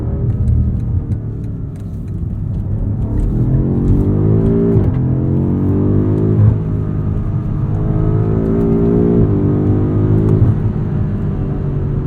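2021 BMW M5 Competition sedan engine under hard driving, a loud, close interior rumble with repeated rising revs and quick shifts through the gears, steady roar underneath and no talk.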